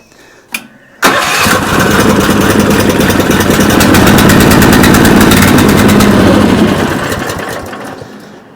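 A Chinese mini excavator engine fitted with an external fuel tank starts after a brief click and runs loud and close with a steady rapid chugging, then gradually eases off toward the end.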